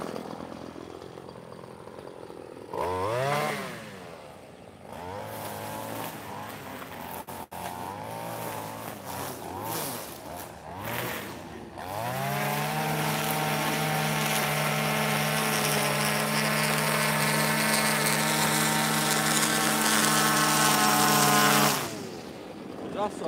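A Ferris Z1 zero-turn lawn mower runs near and loud while mowing grass, its engine revving up and then holding a steady, strong drone for the last half before cutting off.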